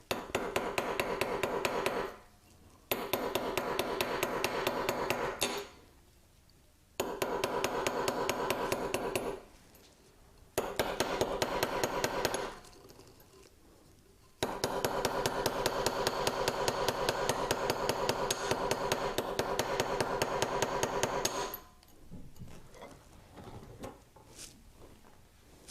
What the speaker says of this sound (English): we want to be a little lighter on our hammer blows